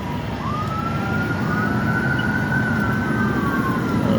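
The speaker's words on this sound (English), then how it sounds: "Still sirens coming." Emergency vehicle sirens wail on the way to a house fire in North Long Beach, one steady rising and falling tone carrying over a loud, constant rumble of traffic and engines throughout.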